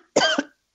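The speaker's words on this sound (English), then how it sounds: "excuse me, I have to cough" A single short, sharp cough from an adult at a meeting microphone, close and loud, followed by silence.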